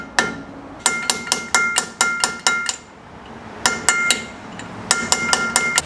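Sharp metallic hammer strikes bash an anti-rotation tab into a Land Rover Defender wheel bearing assembly, coming in quick bursts of five or six ringing blows separated by short pauses, close and clear with no talk.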